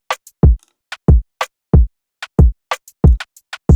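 An FL Studio drum pattern for an R&B/dancehall beat, with a punchy, bassy kick alternating with crisp rimshots and hi-hats in a bouncy, loud, steady rhythm, without voices.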